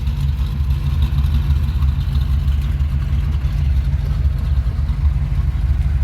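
A V8-swapped Chevrolet S10 pickup fitted with quiet mufflers idles steadily up close, its low, even engine rumble holding without change and with no talking over it.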